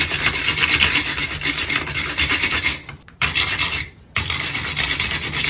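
Rough, steady scrubbing on a blacksmith-forged iron hook, a dense rasping rub that runs continuously with two brief pauses near the end, close and fairly loud with no talking.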